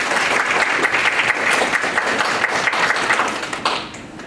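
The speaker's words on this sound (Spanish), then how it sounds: "Vamos a darle un fuerte aplauso a la licenciada" An audience at a talk on legal capacity of people with disabilities claps for a licensed speaker: dense, loud applause from many hands that tapers off in the final half second.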